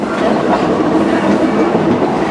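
Frisco Silver Dollar Line train rolling along wooded track, a steady, close rumble of wheels on rails with faint clickety-clack throughout.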